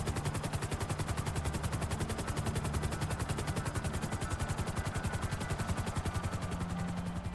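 An Annihilator helicopter in GTA 5 Online flies while firing, its rotor thumping under a rapid, unbroken stream of machine-gun shots that stays loud and even throughout, with no talking.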